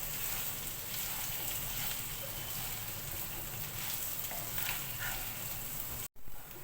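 Chicken dry roast coated in masala powder frying in a pan, a steady close hiss and sizzle running continuously, broken by a brief silent gap near the end.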